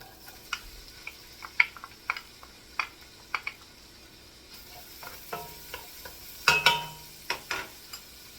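Chopped sweet onions cooking in butter give a faint, steady sizzle, broken by light scattered ticks and stirring clicks from a utensil in the pan, with one sharper clatter near the end.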